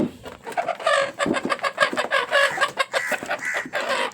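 Several desi (native) chickens cluck close by in quick, overlapping bursts, a busy flock chattering nonstop as they are let out of a cage.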